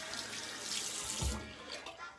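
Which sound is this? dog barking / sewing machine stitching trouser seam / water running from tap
water running from tap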